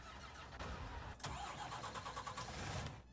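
A truck engine cranks and catches in a farming video game, followed by a loud rumbling idle with uneven pulsing, ending abruptly.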